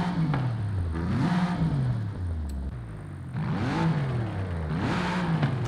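A tuned Audi RS5 in Forza Horizon 5 revs repeatedly with an upgraded exhaust, loud sweeping rises and falls of engine pitch in several bursts separated by a short idle.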